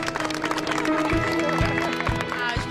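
Street audience applauding a live outdoor performance by street artists, clapping spread through a crowd under steady background hubbub and a faint voice, with a few louder claps standing out near the end.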